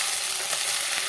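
Tanjariya greens are stirred into garlic frying in oil, giving a steady, dense sizzle at close range with faint scraping of the stirring.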